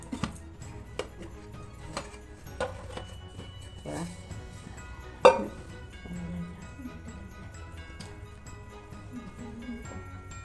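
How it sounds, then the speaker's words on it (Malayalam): A cake pan is knocked against a surface to loosen a freshly baked cake: several sharp, close taps spaced irregularly over about ten seconds, with one louder knock midway. "അങ്ങനെ പാത്രം വെച്ചിട്ട് കൊട്ടി കൊടുക്കുകയാണ്"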